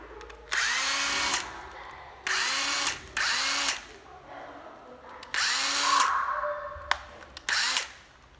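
A used Japanese cordless drill revs in five short bursts, each whirring up and then winding down, with brief quiet gaps between runs.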